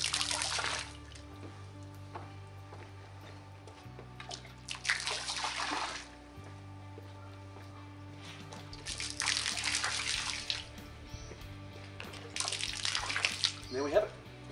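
Super Shine pool clarifier being poured and broadcast over a swimming pool, heard as several splashing, pouring bursts of liquid separated by quieter gaps, with faint background hum.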